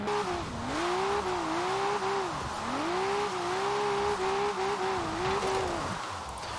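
A Nissan Skyline GT-R V-Spec in Forza Horizon 4 revs hard while driving and oversteering. The engine note rises and falls in repeated swooping sweeps, with a tyre-squeal hiss underneath, loud and close throughout.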